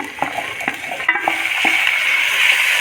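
Potatoes tumble into onion and garlic frying for masala dosa filling, followed by a few sharp spoon clinks and scrapes against the pan over a rising, steady sizzle, close and without talk.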